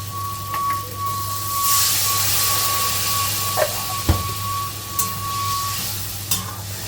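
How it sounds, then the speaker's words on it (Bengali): Hot water goes into a pan of frying potato and pointed gourd with poppy-seed paste, bringing a rising hiss and sizzle, followed by a few scattered stirring knocks against the pan. "এই পর্যায়ে আমি গরম জলটা অ্যাড করে দেবো।"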